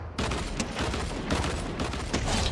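Rapid bursts of video game gunfire crackle without pause, a dense, loud volley of overlapping shots that fills the whole stretch.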